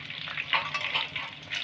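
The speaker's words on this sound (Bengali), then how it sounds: "এইভাবে ভাজাটা করে নিতে হবে।" Soya chunks frying in hot oil over a high gas flame, a steady bright sizzle with crackling bursts, close and continuous, with no voices.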